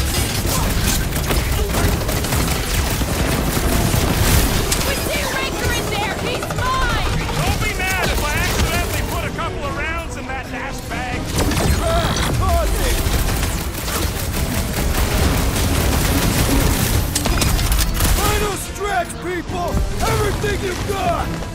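Gunfire in the video game Marvel's Guardians of the Galaxy, a dense, continuous barrage of shots and crashes running the whole length at steady loudness, mixed with battle music and voices talking over it.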